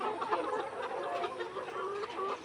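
Hens clucking at a layer hen farm, the birds about 115 days old, a steady mass of overlapping clucks and calls that continues without a break at moderate loudness with no talk.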